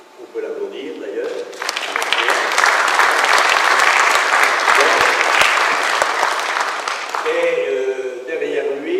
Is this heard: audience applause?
yes